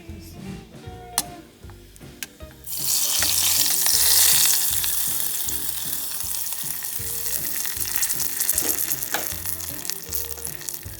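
Jeera tadka tempering of cumin seeds and curry leaves hits methi dal and bursts into a loud, steady sizzle after a few quiet clinks, then settles into a continuous frying hiss.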